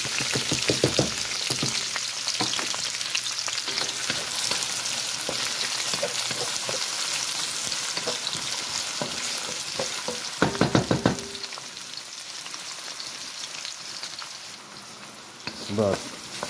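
A grouper fillet simmers and sizzles in a pan, a steady close frying crackle. Clatters of stirring or utensils break in now and then, with a louder burst of clinks partway through.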